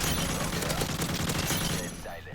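AK-47 fired with a thermal scope in Modern Warfare 3 rattles in a fast, sustained automatic burst, loud and continuous before easing off at the end.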